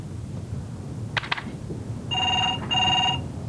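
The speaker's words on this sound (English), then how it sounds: "Or, you know, answer the phone." A telephone rings twice in quick bursts near the end, a bright electronic trill with a short gap between rings, following a quiet room and a brief clatter.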